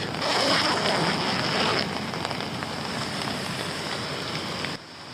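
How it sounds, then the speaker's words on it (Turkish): Steady rain patters down on a beach, a dense, even hiss of drops close by that softens slightly partway through. "Sahilde yağmurlu bir güne uyandık."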